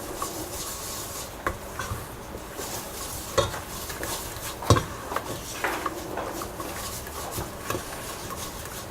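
Butter and flour roux is stirred in a pan, a continuous soft sizzle with rubbing, scraping strokes of a utensil and a few sharper taps against the pan, close up and alone.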